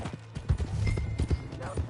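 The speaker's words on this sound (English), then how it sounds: "Hey, that's my horse!" Horse hooves clip-clop at a steady trotting rhythm in the Red Dead Redemption 2 video game, close and fairly loud, with voices talking over the hoofbeats.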